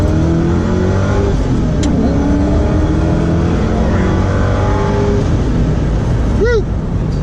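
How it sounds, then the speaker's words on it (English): A car engine roars loudly as it accelerates hard, the supercharged whine climbing in pitch, with a brief shift near the end. "This car is supercharged, and the sound is"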